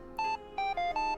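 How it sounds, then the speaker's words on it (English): A phone ringing in a video game, a short electronic ringtone of four bright tonal beeps in a quick melodic pattern, close and clear with no talking. "suddenly your phone rings"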